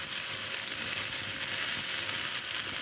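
Fish frying in a Teflon nonstick pan, its skin browning, giving a steady, close, dense sizzle and crackle with no pause and no voices.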